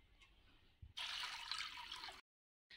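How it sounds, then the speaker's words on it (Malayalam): Water splashes steadily into a small homemade tabletop waterfall ornament, a close, rushing pour lasting just over a second before it cuts off abruptly. "വെള്ളം ഒഴിച്ചു"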